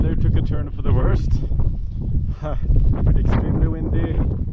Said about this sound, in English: Extremely windy, it's raining, some snow as well.